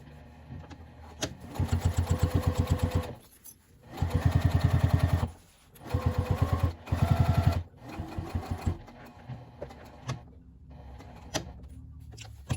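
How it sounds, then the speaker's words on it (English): A domestic sewing machine top-stitches a pocket on a fabric memory bag, running in several bursts of rapid, even stitching separated by short pauses, with lighter start-stop stitching toward the end. "now we're just going to top stitch the pocket"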